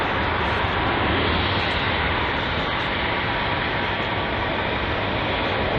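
Aircraft engines at London Heathrow airport, a loud, steady broadband roar that holds without a break for several seconds, with no voices.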